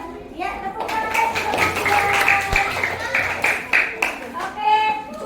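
A class of fourth-grade children claps hands together in an elementary school classroom, a rhythmic burst of clapping mixed with children's voices and a teacher speaking over it.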